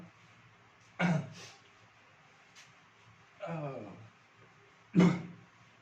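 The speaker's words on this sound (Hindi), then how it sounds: "मैं खांस रहा हूं" A man coughs twice, sharp and close, during a chemistry lesson, around one and five seconds in, with a short throat-clearing sound between them.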